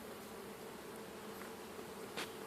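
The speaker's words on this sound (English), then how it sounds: "when I'm picking up this next bar, I'm not disturbing the bees" Honeybees hum around a top bar hive in a steady, close buzz that never lets up, with a few faint clicks and taps of wood breaking through.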